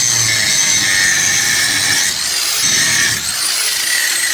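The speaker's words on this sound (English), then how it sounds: "I brought a couple grinding tools and I'll see if I can't get those to give up" Angle grinders cutting away old motor mount welds on a first-generation Toyota Tacoma truck frame during an engine swap; a loud, steady high-pitched whine with grinding rasp runs continuously, dipping briefly twice, with no talking.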